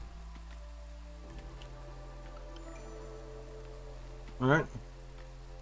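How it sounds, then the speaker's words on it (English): Steady, soft drizzle hisses in the background of the Against the Storm settlement-building game under low ambient music, and someone speaks briefly near the end. "Drizzle."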